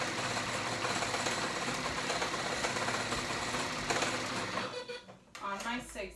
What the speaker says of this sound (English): I'm gonna overlap them, and I wanted to show you, I'm gonna do my zigzag